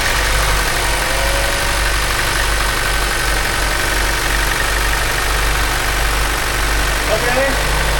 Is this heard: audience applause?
no